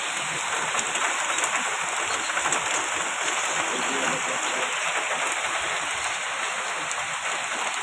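Steady heavy typhoon rain pouring continuously over flooded Manila, a dense hiss of drops on surfaces that stays even and loud throughout, no voices standing out.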